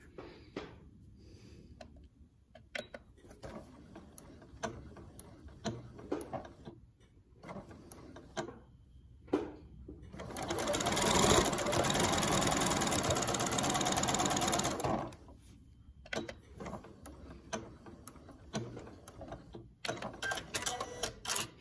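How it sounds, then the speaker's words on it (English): A sewing machine runs a steady, continuous stitch along a rolled hem on an open cardigan, a single sustained burst of several seconds standing out between quieter handling noises and pauses. "I am just gonna sew right along that rolled hem"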